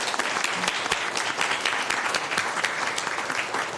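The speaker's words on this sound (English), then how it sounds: "Big round of applause for Kristen." An audience applauds a person honored at a cable commission meeting, a steady wash of many hands clapping that holds at an even level from start to finish.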